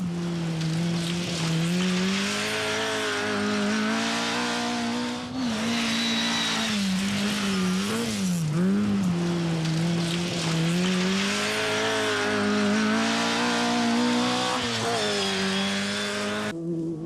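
Rally cars at the 1988 Scottish Rally roar continuously with sustained high engine revs, pitch rising and falling through gear changes, loud and close throughout with no talk.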